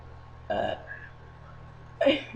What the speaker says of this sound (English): I'm gonna burp some words for you guys